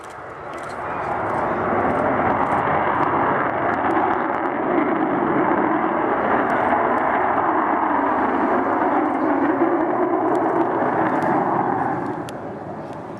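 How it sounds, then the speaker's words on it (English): The four engines of the Avro Vulcan XH558 delta-wing bomber roar in a broad, loud, sustained rush while spooling down at the RIAT 2010 airshow, then ease off slightly at the end. "Is spooling down there as they take the power off"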